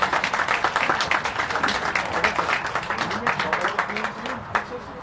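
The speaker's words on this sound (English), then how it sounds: "Give yourselves a round of applause." An audience at a Hispanic parade and scholarship giveaway kick-off in Yonkers applauds, dense clapping that stays loud for several seconds, then thins out toward the end.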